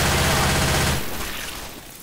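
A burst of loud, dense gunfire in a zombie shooter video game, one second of rapid shots that then fades into a trailing echo.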